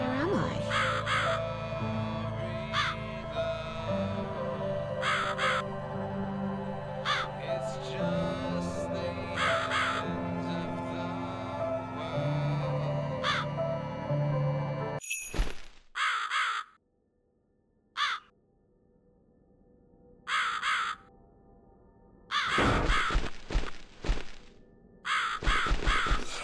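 Crow caws in The Cat Lady video game, sharp repeated calls over a dense ambient game soundscape, followed by sparse bursts later, with speaking voices.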